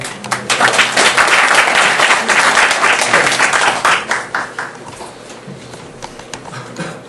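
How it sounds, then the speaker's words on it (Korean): A church congregation at a remodeling dedication service claps loudly and steadily to welcome a speaker to the podium, then the clapping thins out into scattered claps. "힘찬 박수로 교구장님을 모시도록 하겠습니다."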